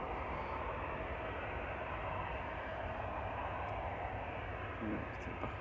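A 13-year-old Airbus A321 at Manchester Airport gives a steady, moderately distant engine rumble and roar, continuous and even throughout, with faint higher tones near the end.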